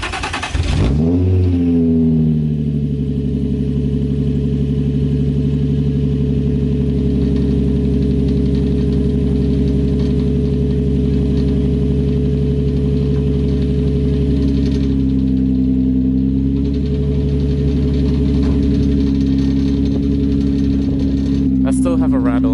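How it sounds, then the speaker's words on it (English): Infiniti G35 with test pipes and the muffler cut off, revved loudly up from idle: a deep, raspy exhaust roar that climbs quickly, then holds a steady, droning high idle for about twenty seconds, close and loud. "The muffler is basically cut off. That's why the car's so loud."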